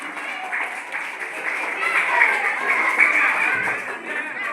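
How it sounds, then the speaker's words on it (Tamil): Audience applause at a Krishna Jayanthi anniversary celebration, a sustained wash of many hands clapping evenly throughout without a break. "அவர்கள் எழுந்து கரகோஷம் விடுமாறு கேட்டுக்கொள்ளப்படுகிறது."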